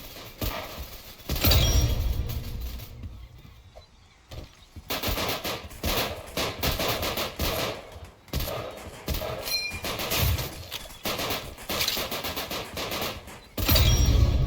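Rapid rifle gunfire in the Roblox shooter Weird Gun Game crackles in quick bursts and single sharp shots, with loud clusters near the start and end and quieter stretches between.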